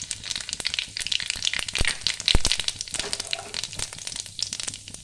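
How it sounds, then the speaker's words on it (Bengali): Black cumin seeds crackle and sizzle in hot oil in a pan as a tempering for soybean chop filling, a dense, close frying hiss with sharp pops and crackles throughout. "একটু কালো জিরে ফোড়নে দিয়ে দিলাম"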